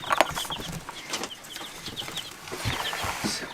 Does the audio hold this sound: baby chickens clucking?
yes